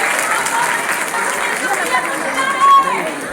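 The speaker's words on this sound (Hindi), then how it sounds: "अगर बदल रहा है तो जोरदार तालियां भी होना चाहिए।" Dense, steady applause from a large audience fills a fashion show venue in Jabalpur, a continuous roar of clapping and crowd noise with no clear breaks.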